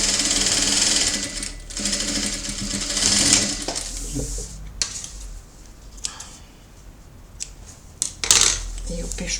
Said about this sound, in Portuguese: E agora vamos fazer o pesponto desse lado.